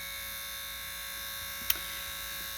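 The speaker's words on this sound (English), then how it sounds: "You can actually hear it whizzing away." A Triumph Stag window lift motor, cleaned of grease and running on a 12-volt power supply, gives a steady, thin electric whine heard close up, with one brief click partway through.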